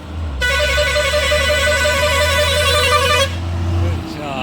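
A passing luxury bus on a ghat road in the Konkan sounds its horn loudly and alone in one sustained blast of about three seconds, while a low engine rumble continues beneath and after it.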